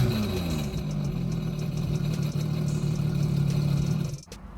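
A Sea-Doo Spark personal watercraft fitted with a Venom double barrel exhaust runs with a steady, throaty mid-pitched drone at close range for about four seconds, then cuts off abruptly.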